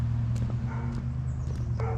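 A dog barks a few times from somewhere behind a residential property, distant and partly buried under the steady drone of a pressure washer running close by.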